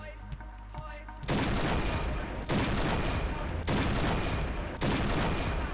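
Sniper rifle shots in the Point Blank video game, fired by a mouse macro: four loud, evenly spaced cracks, each ringing out briefly, after a short quiet stretch at the start.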